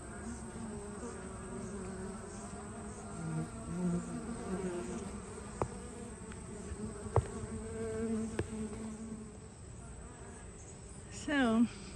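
Honey bees buzz continuously in a bee yard, a dense steady hum close by, with occasional louder passes and a few faint knocks.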